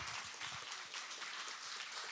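Steady, dense clapping from a church congregation, continuous and fairly even throughout with no voices standing out.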